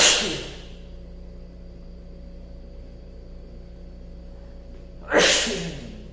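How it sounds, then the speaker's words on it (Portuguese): Two sharp sneezes, one at the start and another about five seconds later, each a loud burst that trails off over a steady low background hum, with no talk in between. "A vontade de espirrar."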